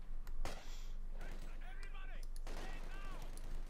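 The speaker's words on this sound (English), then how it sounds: "Shots fired." Battle gunfire from the strategy game Company of Heroes 2, with sharp shots and rattling bursts over a constant low engine drone and clanking, while a voice speaks over the combat.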